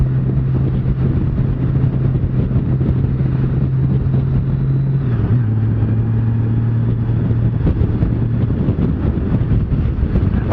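A 2018 Honda Goldwing motorcycle cruises in third gear at about 2,300 RPM just outside town, its engine a steady low hum with a slight pitch drop midway, under constant wind rush and no talk.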